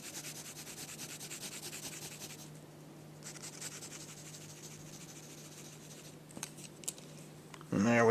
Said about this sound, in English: Color in those big shoes of his.